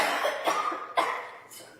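A woman coughs in a few short, sharp bursts spread across the clip, fairly close and moderately loud, with no talking.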